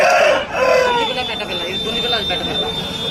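Young three-month-old roosters crow at a Saturday hen market in Mydukur, a strained drawn-out call near the start with fowl sounds following, heard under people talking close by.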